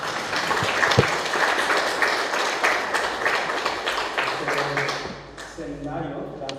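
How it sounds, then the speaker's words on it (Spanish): Audience applause at an evening church seminar, a steady mass of clapping with crowd noise that carries on for several seconds before thinning out near the end. "Un aplauso."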